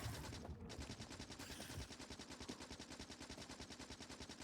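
Rapid automatic gunfire in the video game Factorio, a fast, even stream of sharp shots that runs nonstop for several seconds at moderate volume.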